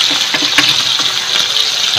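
Garlic frying in hot oil for a Filipino binagoongan talong dish, giving a steady, close crackling sizzle throughout with small bursts of spatter.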